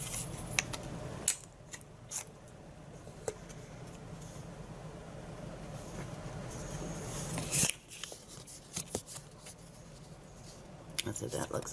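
A corner rounder punch cuts paper corners, producing several sharp, close clicks and crunching snips amid paper rustle, with a person talking through much of it.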